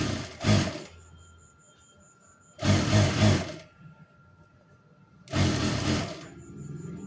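A sewing machine stitches a down-turned strip on a blouse sleeve in three separate loud bursts of rapid needle clatter, each about a second long, with quiet pauses between them.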